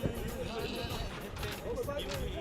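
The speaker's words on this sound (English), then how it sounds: "We're taking some goats to town." Goats bleat among people talking and general hubbub while they are being taken to town in Mauritania, their cries rising in short wavering calls over the chatter.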